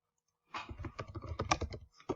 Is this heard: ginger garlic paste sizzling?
no